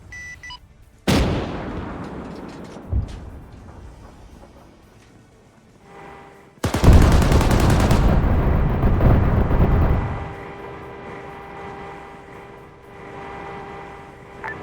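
Gunfire striking a stationary tank in the Command and Conquer video game, heard as two sharp loud blasts, the second a sustained roaring burst lasting several seconds before fading into a low electronic hum.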